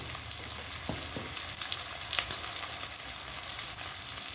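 Spice powders being stirred into frying new potatoes and eggs in a pan, a continuous bright sizzle with a few light scrapes and taps of the spoon.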